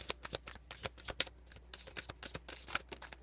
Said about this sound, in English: That's my shuffling.